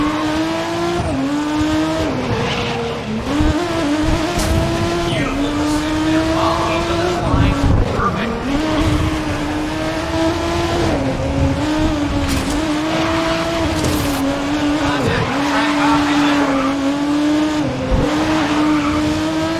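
Aston Martin Vulcan AMR Pro race car in the GRID 2019 racing game, its engine wailing loudly through repeated upshifts and revs with occasional tire squeal; a voice speaks over it at times.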